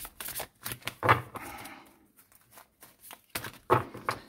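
Oracle cards are shuffled for a reading in quick, close riffling bursts separated by short pauses.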